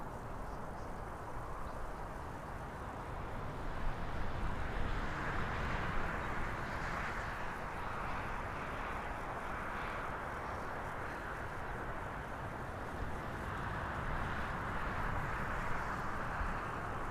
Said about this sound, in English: Now this Aer Lingus is on its way back to Dublin.